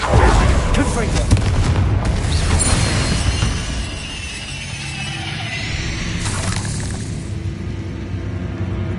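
A Confringo spell explosion in Hogwarts Legacy blasts loudly with a deep boom and crackling debris, followed by a second burst a few seconds later amid lingering rumble; speech is present.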